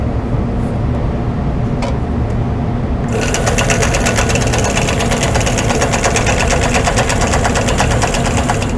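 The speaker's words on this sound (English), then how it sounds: "I'm going to turn on my horizontal channel lock, and I'm just going to baste across." A quilting machine basting across a flying geese quilt top hums steadily, then its stitching turns louder and brighter about a third of the way in and keeps a fast, even mechanical chatter.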